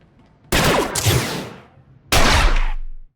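Two long bursts of blaster gunfire in a Star Wars video game, loud and dense, the first lasting about a second and a half and the second close to a second, with a brief pause between them.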